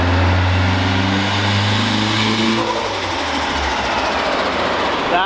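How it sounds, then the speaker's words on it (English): A boosted K20-engined Honda Civic on a dyno revs hard, its turbo dump pipe sounding off with a loud raspy roar and rising whine that breaks into harsh, noisy blow-off, continuing loudly throughout. "That was our dump pipe, buddy."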